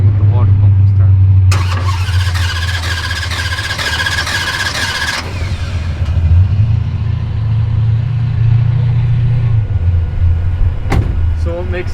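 The engine of a Hemi Durango cranks over repeatedly, a loud low churning rumble with whining and squealing on top and a voice talking over it, with a sharp click near the end.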